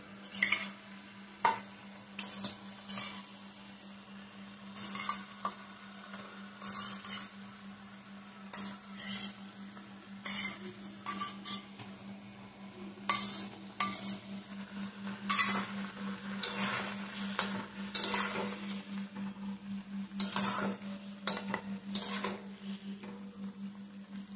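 Boiled, salted potatoes are stirred in a pan for Bengali jhal doi aloo, giving irregular scraping and clinking bursts of utensil against metal over a soft steady sizzle, with no talking.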